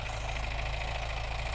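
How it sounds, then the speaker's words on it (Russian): A tractor engine idles steadily with a deep low rumble and faint mechanical knocking, continuous and fairly close, no voices over it. "Приехал трактор."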